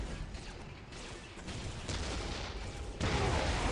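Tank shells firing in Warhammer 40K: Dawn of War Definitive Edition, a dense roar of cannon blasts and battle noise with a heavier burst toward the end.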